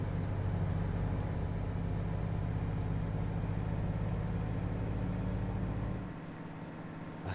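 A Volvo F88 truck engine in Euro Truck Simulator 2 rumbles steadily from inside the cab, a loud low drone that drops in level near the end.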